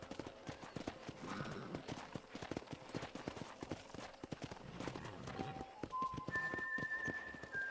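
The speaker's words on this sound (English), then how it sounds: "Vieram o cavalo." Horse hooves clip-clop at a steady walking rhythm in the Red Dead Redemption video game, close and distinct, with a soft voice and a few tonal game sounds toward the end.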